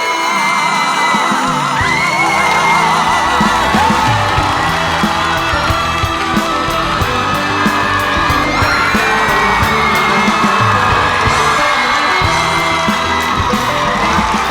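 Studio audience at a Korean TV trot singing competition applauding and cheering as a contestant is welcomed, a dense, loud, continuous roar of clapping with whoops and yells throughout.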